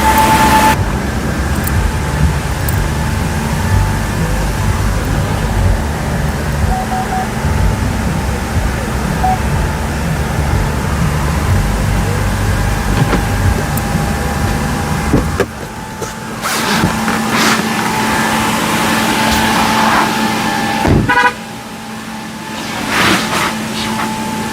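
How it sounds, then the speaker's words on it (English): An SUV rolls into a large inflatable paint booth, about 26 by 13 by 10 feet and inflated by 950W and 550W blowers. A steady engine and blower drone runs throughout, with brief shifts and knocks near the end. "next we're going to bring a car in and show you how it looks."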